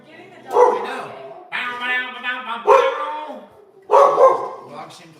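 A dog barks in loud bursts between drawn-out howls, three strong outbursts close to the listener with a sustained wavering howl between them.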